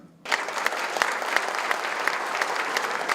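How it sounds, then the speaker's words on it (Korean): Applause breaks out suddenly from an audience at a company's 30th anniversary ceremony honoring a long-service award recipient, a full, steady clapping from many people that continues evenly after the abrupt start. "큰 박수 부탁드리겠습니다."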